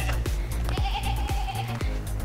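Bleating from a flock at a family farm that includes a ram, several short repeated cries close by, spaced evenly across the stretch over a low background hum.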